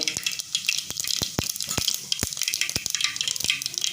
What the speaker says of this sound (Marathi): तेल तापले मोहरी घातले जिरे